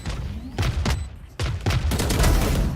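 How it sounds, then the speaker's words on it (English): Missile barrage in a shooter video game, a rapid series of loud booming explosions and blasts in close succession, dense and forceful, with no talk over it. "All missiles away."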